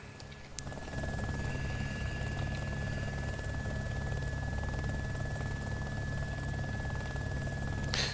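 A helicopter in a survival video game flies steadily, its loud, continuous rotor and engine drone holding from start to finish after a brief quieter opening, with a thin steady whine running above it.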